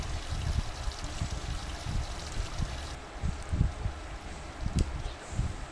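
Tap water runs and pours steadily while dishes are washed after a meal, with low splashing and knocks through it and no talking.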